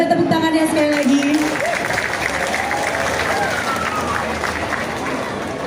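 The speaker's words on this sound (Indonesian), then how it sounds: "Boleh tepuk tangannya sekali lagi." An audience claps at a school inauguration in Jakarta, a dense, sustained round of applause heard up close over a crowd murmur, with an announcer's voice talking over it at the start.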